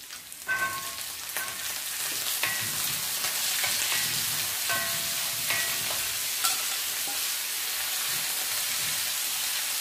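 Chopped potatoes sauté in oil with softened onions for a Kerala-style drumstick-leaf potato thoran, giving a steady close sizzle and frying hiss with occasional stirring scrapes and clicks of a spoon against the pan.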